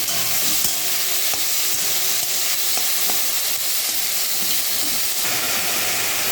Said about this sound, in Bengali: এই সময় আমি মাছটা একটু ভেজে নেব, হালকা রং আসা অবধি ভেজে নেব।